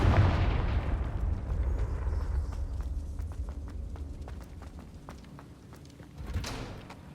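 A Confringo fire spell cast in Hogwarts Legacy bursts loudly at the start, its rumbling blast fading over several seconds amid scattered crackles and footsteps, with a second muffled thump near the end.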